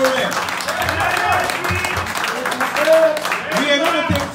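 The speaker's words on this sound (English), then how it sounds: "Round of applause for Omoyele Sowore." Crowd at a political fundraising event in Columbus, Ohio, clapping in a sustained round of applause, with voices calling out and talking over the claps throughout.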